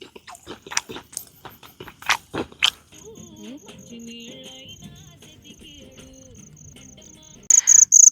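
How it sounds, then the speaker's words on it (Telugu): Crunchy snacks are bitten and chewed outdoors on a hilltop at night, with several close, sharp crunches in the first few seconds, then quieter sounds and a steady high cricket-like chirp. "మన స్నాక్స్ అయితే రెడీ అయిపోయింది ఇదిగోండి అందాకే తిందాం"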